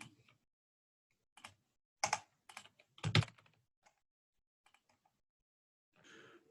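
Computer keyboard typing in short clustered bursts of keystrokes with quiet gaps between them, close and fairly faint, while a name is entered into a form in low-code software, with no talking.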